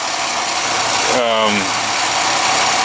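A Chevy Malibu engine idles a little roughly after a catalytic converter replacement, with a loud steady close-up drone and a brief rising-falling tonal sweep near the middle.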